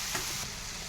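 Tempering with guggillu sizzles loudly in a hot pan as it is stirred, giving a dense, steady crackling fry throughout.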